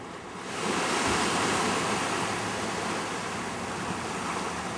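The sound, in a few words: waves hitting the rocky coast at Lovers Point, Pacific Grove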